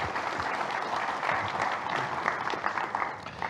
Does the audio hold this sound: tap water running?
no